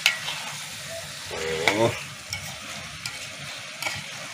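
Liver frying in a pan on the stove for ciğer tava, with a steady sizzle and several scraping stirs of the pan. A voice briefly exclaims partway through.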